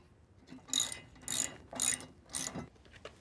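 A socket ratchet on the 3/4-inch hex of a half-inch hitch bolt for a Swagman XC2 bike rack gives four quick bursts of close clicking, evenly spaced, with short pauses between strokes.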